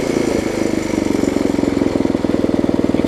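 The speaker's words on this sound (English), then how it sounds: "You cannot beat these 5 horsepower Briggs." A 5 hp Briggs & Stratton flathead engine on a Task Force tiller runs close by with a fast, even chugging pulse. It is loud and steady throughout, with no voices.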